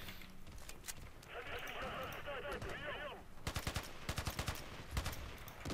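MG3 machine-gun fire in the online shooter Battlefield Play4Free on the Karkand map, rapid rattling bursts of shots in the latter half, preceded by mixed game noise and someone talking throughout.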